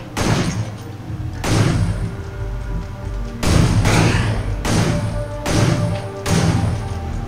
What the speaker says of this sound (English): let's play a little bit with this shotgun